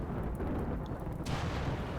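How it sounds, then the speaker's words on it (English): A muffled explosion in the video game RimWorld, a low rumbling boom that swells partway through and lingers, fairly quiet, with no speech. "Another explosion."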